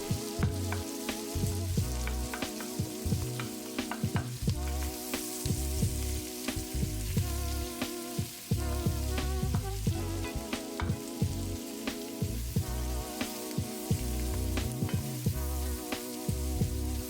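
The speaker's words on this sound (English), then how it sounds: "all that lovely minced garlic, then stir and cook until the onion caramelizes" Onion and minced garlic sizzling in a pan gives a steady sizzle under a prominent rhythmic, tonal background pattern, with scattered stirring taps and no talking.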